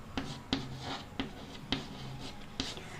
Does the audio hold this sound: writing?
yes